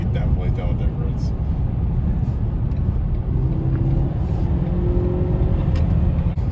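Low, steady engine rumble from a 2015 Ford Fusion EcoBoost fitted with a K&N cold air intake, a loud, close drone with a faint rising tone partway through, under a voice speaking.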